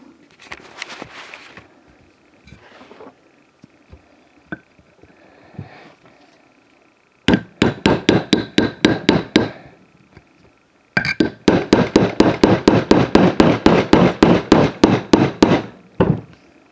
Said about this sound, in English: Let's see what the big hammer does.